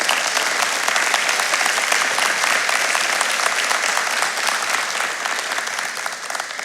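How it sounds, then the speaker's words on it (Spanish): A church congregation applauding continuously, dense and fairly loud, the clapping easing slightly toward the end. "un aplauso para cada uno de ellos"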